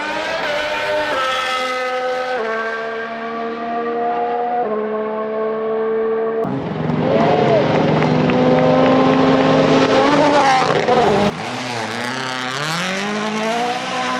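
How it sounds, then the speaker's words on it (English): Loud, sustained engine roar from racing cars, the pitch climbing and dropping through gear changes as cars scream past in close succession. "they have cars with amazing exhaust notes"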